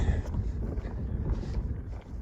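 Strong gusty wind buffets the microphone at a mountain overlook in Dolly Sods, West Virginia, with a steady low rumble and roar throughout, no voices.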